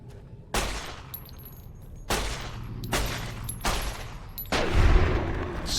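Sniper rifle shots ring out in Fallout: New Vegas, four sharp, loud cracks a second or so apart, each trailing off into a decaying echo, with no talk over them.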